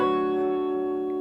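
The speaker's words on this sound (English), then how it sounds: "I'm going to strum and then hammer on with that third finger." On an electric guitar, one strummed chord rings out and sustains, with a soft hammered-on note from the third finger added on top, in a rhythm and blues style. The sound is clean and close.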